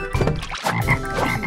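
Cartoon frog croaking in an animated carnival scene, a dense run of rough, throaty croaks with a brief gap midway, close and loud.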